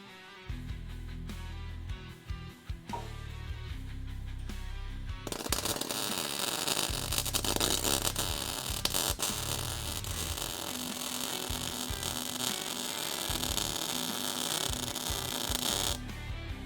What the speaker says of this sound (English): I can fuse metal together with electrical arcs.